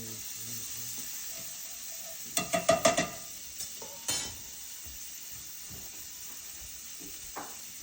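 Onions cooking in butter in a pan for shrimp Alfredo, a faint steady sizzle broken by a quick cluster of sharp metallic clinks and scrapes, then a few isolated knocks.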